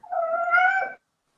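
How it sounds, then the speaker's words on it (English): A house cat lets out a single drawn-out meow, clear and close, lasting about a second before silence. "This is Luca, our cat, is talking with Fabio."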